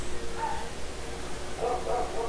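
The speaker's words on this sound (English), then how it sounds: "I wonder what they're barking at." Dogs bark in the background, a short yip near the middle and a louder cluster of barks toward the end, set against a steady room hum.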